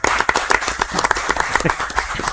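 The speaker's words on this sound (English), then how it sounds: "How about a round of applause for Ron Carasano?" Brief round of applause at a township meeting, a small room of people clapping in a quick, uneven patter of sharp claps, close and clear, with no talking over it.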